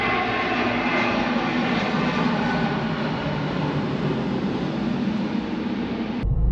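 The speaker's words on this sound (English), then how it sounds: "watch the aeroplanes go over as well" An aeroplane passes overhead with a loud, steady, broad roar that fills the clip. The roar stops abruptly just before the end.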